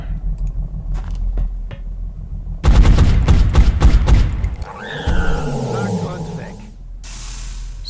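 A burst of loud gunshots in the video game XCOM: Enemy Unknown rattles off in quick succession, then gives way to humming engine noise and rumble.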